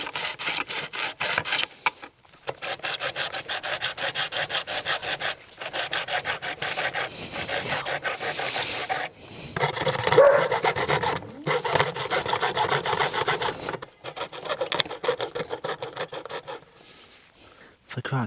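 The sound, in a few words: hacksaw cutting a Honda ST1100 mirror part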